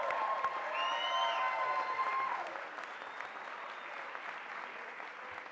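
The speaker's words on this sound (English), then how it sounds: "Give yourselves a round of applause." A graduation convocation audience at NYU applauds its 2013 degree candidates, dense clapping that is strongest at first and then eases to a steadier, softer patter.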